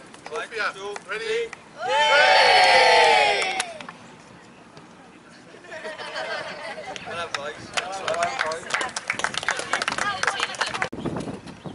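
Football team and supporters cheer at a cup trophy lift after a Risca United v Treowen Stars FAW Cup match, a loud swell of shouting and whoops that rises, fades, then returns with looser crowd noise.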